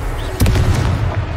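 A Confringo blasting spell detonates in Hogwarts Legacy: a loud, close explosive boom that strikes sharply and then rumbles on in a heavy, sustained low roar, with no one talking over it.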